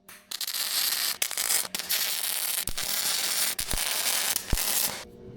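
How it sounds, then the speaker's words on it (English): A steel tab is tack welded in place while held square by a clamped Fireball tool square: a continuous loud, close crackling buzz of the arc lasting about five seconds, broken by a few brief gaps and pops. "Got a fireball tool square tab clamped on there, so it'll hold it up straight while I get it tacked"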